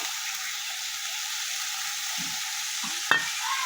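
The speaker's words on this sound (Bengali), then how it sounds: "একটু তেল দিয়ে দিলাম দিয়ে ভালো করে মশলাটা এবার কষাবো" Oil and soaked masala for a potol curry sizzle steadily in a pan, with a few soft scrapes of stirring and one sharp metallic clink near the end. There is no talk.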